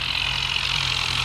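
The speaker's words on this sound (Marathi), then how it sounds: "बघू आपण पहिल्या आता हे सेकंड ट्रायल आहे, पण ट्रॅक्टर चढतंय का बघू आपण लवकर" A tractor engine labours on a climb during a second trial run, giving a steady, loud, close drone with a low hum and no break in the sound.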